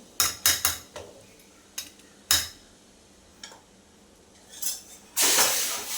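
Pots and pans clinking as cooked bitter gourd sabzi is moved into another vessel, with several sharp metallic clinks and taps at irregular intervals and a closing scrape and rush of noise, close and moderately quiet.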